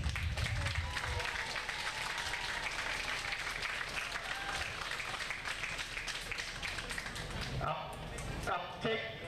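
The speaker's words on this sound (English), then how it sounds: "give them a big round of applause" Audience applause for youth championship teams at a tournament ceremony, a long steady roar of clapping from a large crowd that thins near the end as scattered sounds and voices come through.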